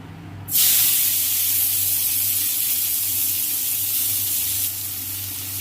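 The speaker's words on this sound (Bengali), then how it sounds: "এবার আমি কড়াইতে পেঁয়াজ কুচি দিয়ে দেবো" Chopped onions dropped into a hot wok after frying prawns, a sudden loud hiss that becomes a dense, steady sizzle, then eases slightly near the end.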